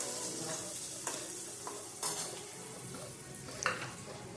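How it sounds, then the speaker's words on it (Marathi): Chopped onion frying in oil in a kadhai and being stirred, giving a steady sizzle with a few sharp scrapes and clinks of the spoon against the pan. "लाल होईपर्यंत परतवून घेऊ कांदा टाकून घेतला कढईत. छान परततोय कांदा."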